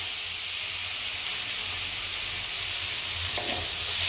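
Onion and tomato sautéing in a home kitchen pan, giving a steady, close sizzling hiss with soft steam that holds evenly throughout, no voices, and a faint stir or clink near the end.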